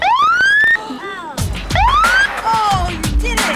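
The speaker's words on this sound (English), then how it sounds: "the first time you heard a siren up close?" A loud Portland Police Bureau siren wails close by, rising sweeps repeating, then a second burst with overlapping yelps and rumbling engine noise.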